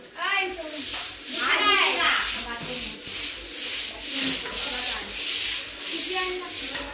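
A brush scrubs surfaces during wet household cleaning ahead of the Ganpati festival, with a clothes brush in use. The rubbing strokes come in a steady, repeated rhythm close by, under people talking.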